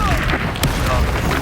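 A Confringo blasting spell from Hogwarts Legacy goes off as a short, loud boom with a sharp crack partway through, close up amid a dense rumbling game mix.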